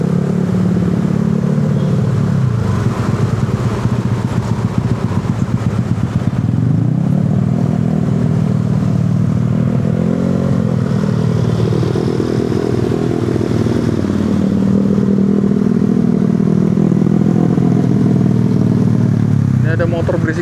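A loud motorcycle engine drones and revs in busy city traffic on a Jakarta street, holding a thick rumble throughout with other vehicles and a voice talking underneath.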